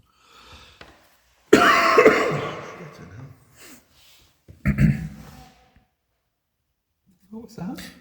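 Inside a nunnery in the UK, a sudden harsh cough bursts out, followed a few seconds later by another shorter cough, with brief quiet breaths and murmurs between.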